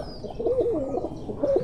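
Kuwaiti teddy pigeons coo in a soft, warbling rolling call, a clear close coo repeating through the short moment with a second burst near the end, no voices over it.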